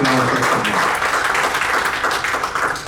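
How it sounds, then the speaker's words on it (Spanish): A church congregation claps loudly together for the Lord, sustained applause filling the room, with a voice briefly audible at the start beneath the clapping. "denle un aplauso al Señor"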